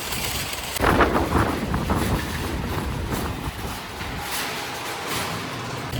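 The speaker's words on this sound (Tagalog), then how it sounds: "Yan, mahangin na." Wind gusts outside a grocery store in Canada, a loud rushing buffet against the microphone that peaks early and then eases into a steadier blustery roar, with no one speaking.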